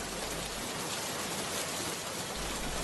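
Heavy cartoon rain falls in a village scene, a continuous broad hiss of drops pattering down, steady and close for the whole moment with nobody speaking.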